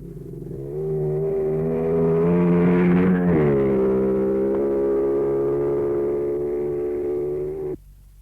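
A 250 Jawa motorcycle at a 1965 hillclimb in New Zealand, its two-stroke engine rising to a sustained high-revving drone for several seconds before cutting off abruptly, loud and close.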